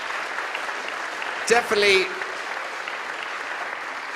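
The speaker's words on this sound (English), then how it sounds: "Can we give them a big round of applause, please?" An audience at a classical Christmas concert claps steadily for young performers, a broad wash of even applause, with a man's short spoken word cutting in briefly near the middle.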